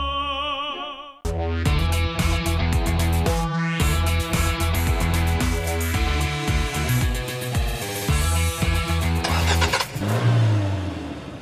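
A sedan follows a red Mazda 6 with its engine revving and accelerating loudly. The drone rises and falls steadily after a brief quiet start.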